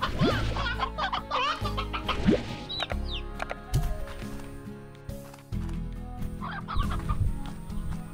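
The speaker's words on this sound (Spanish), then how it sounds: "Y todas las demás gallinas las llevamos con el señor gato." Chickens in the video game Slime Rancher clucking busily and overlapping in short, choppy bursts, loud and close, with game sounds mixed in and no talk.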